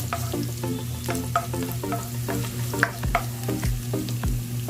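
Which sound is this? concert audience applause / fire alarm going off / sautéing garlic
sautéing garlic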